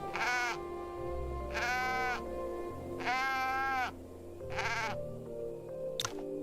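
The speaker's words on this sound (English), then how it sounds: "It's Miss Bao's goat!" A goat in Wandering Sword, Miss Bao's escaped animal, gives four long wavering bleats close by, loud and nasal with short pauses between, followed by a brief sharp click.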